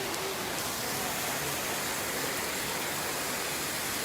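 Steady outdoor rain pours down near a large banyan tree beside an old pond, a dense, even hiss that fills the whole moment without pause or voices.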